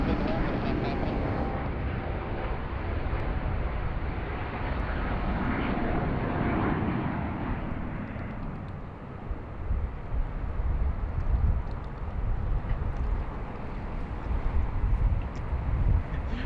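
A fixed-wing airliner rotates and lifts off from a Sydney Airport runway, its engine roar broad and steady under wind buffeting the microphone, easing somewhat as it climbs away, with people talking over it.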